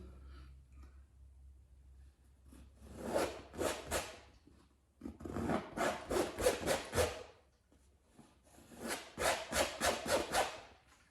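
A painting knife scrapes paint across a canvas to form a mountain, three bursts of quick rhythmic rasping strokes, close and clear, separated by short quiet pauses.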